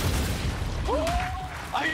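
A boomshot explosion in the video game Gears 5 during a ranked Control match, a dense low rumbling blast sitting under continuous gunfire and game noise, with a voice briefly talking over it.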